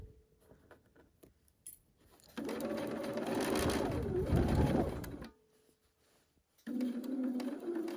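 Sewing machine stitching slowly along the hem of a table napkin, a steady mechanical whir of about three seconds between quieter pauses, with a second shorter run near the end.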